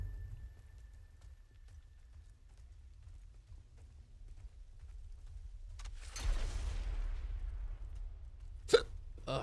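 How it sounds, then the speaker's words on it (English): During a Diablo 4 stream, a single sharp hiccup stands out near the end, following a soft burst of noise over a quiet, low background hum. "Hiccups."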